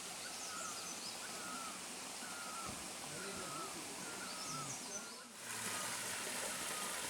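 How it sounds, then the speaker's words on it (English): Spring water from a natural source in the hills flows steadily in a constant broadband rush, with faint bird calls above it and a brief dip near the end. "this water that you see, it is coming out of a natural source of water up in the hills"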